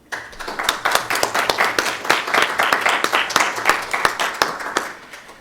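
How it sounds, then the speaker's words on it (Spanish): Audience applause at an academic conference on art and social commitment, a burst of close, crisp hand claps from a modest crowd, rising quickly and holding steady before tapering off at the end. "para quienes pido un aplauso"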